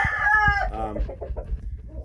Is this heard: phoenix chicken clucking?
yes